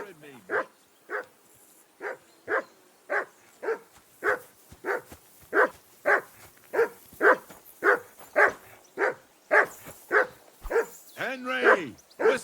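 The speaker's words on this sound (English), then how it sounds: "Whistle at that mutt of yours to stop barking!" Dog in Kingdom Come: Deliverance II barking steadily, around twenty sharp barks in an even rhythm, fairly close and loud, ending in a burst of whimpering yelps.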